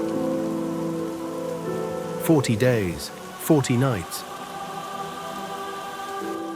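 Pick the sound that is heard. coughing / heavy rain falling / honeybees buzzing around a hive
heavy rain falling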